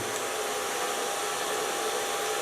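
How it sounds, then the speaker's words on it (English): A hair dryer blows with a steady, loud, airy roar that holds constant throughout, with no other sounds. "And put my hairdryer on volume."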